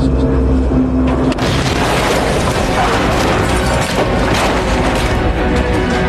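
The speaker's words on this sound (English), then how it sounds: "But minutes later, there's another, even bigger bang." A failing airliner engine gives a big bang in flight, followed by a loud, dense roar and rattling vibration that fills the cabin without letup.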